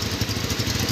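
Honda Tiger Revo motorcycle exhaust, a steady, loud, close idle with a fast even pulsing throb and a rough buzzing edge, heard alone.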